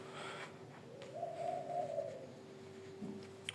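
Soft, low cooing from a pet bird playing with a ball indoors, a drawn-out mellow call rising and falling for about a second in the middle, with a brief quieter coo near the end over faint room noise.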